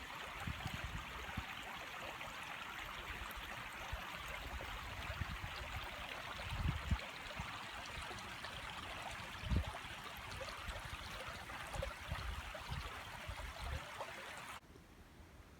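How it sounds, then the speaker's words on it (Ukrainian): A river flows past its bank in a forest, giving a soft, continuous rushing of water at low volume that carries on steadily for about fifteen seconds before it cuts off abruptly. "і тільки послухайте, як шумить вода."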